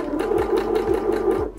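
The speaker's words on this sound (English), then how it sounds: "Now I can start actually sewing it on." A sewing machine stitching pom-pom trim onto an early 1920s sewing box, a steady, fast mechanical whirr with rhythmic needle thumps about twice per second, close and continuous.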